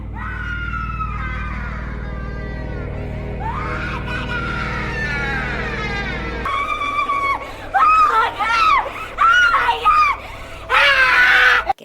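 A woman screams and sobs in a horror film scene, with long strained wailing cries that grow into loud, broken, high-pitched shrieks in bursts toward the end, set over a low droning underscore.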